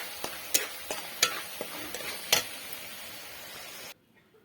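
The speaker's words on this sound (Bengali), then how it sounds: "নুনটা দিয়ে আবারও সব মশলাগুলো ভালোভাবে কষে নেব।" Spice paste with salt being sautéed in a pan for pabda fish curry, a soft sizzle with repeated sharp ladle scrapes and taps, ending abruptly in silence.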